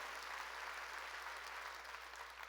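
A church congregation claps together during a sermon, a dense, even burst of applause sustained for a couple of seconds.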